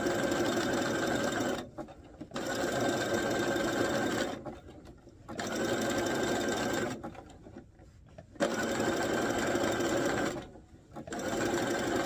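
A sewing machine stitches fabric to gather a dress, running in bursts of fast, even mechanical whirring, broken by short quiet pauses while the fabric is pulled along.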